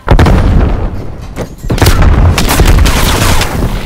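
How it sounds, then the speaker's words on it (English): Call of Duty: Black Ops Cold War multiplayer combat, a frag grenade blast amid loud, dense gunfire and repeated booming bursts, close and continuous with only a brief lull. "Throwing frag."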